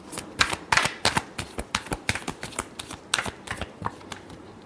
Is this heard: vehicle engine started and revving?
no